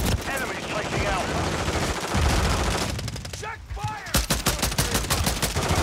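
Rapid automatic gunfire crackles through a Call of Duty Modern Warfare 3 multiplayer gunfight, with dense bursts of shots running nearly nonstop, a brief lull near the middle, then renewed sharp volleys over a busy game soundscape.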